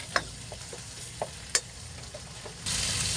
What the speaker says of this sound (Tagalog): So, ngayon gisa natin